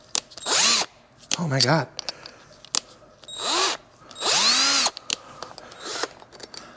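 Power drill fitted with a stepped bit boring into a chopper's fender frame mount, several short whining bursts of rising and falling pitch separated by pauses, with a voice exclaiming between runs.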